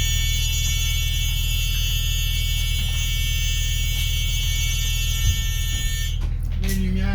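A bus emergency door alarm buzzer sounds as a steady, harmonic electronic drone over a low hum, cutting out near the end amid a few brief clunks.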